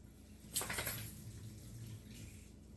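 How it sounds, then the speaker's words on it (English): Tap water splashes into a kitchen sink as hands are rinsed while cooking, a short faint burst that starts abruptly and then eases into a softer, steady trickle, no voices. "it's hard to get this off your fingers, so I have to rinse my hands"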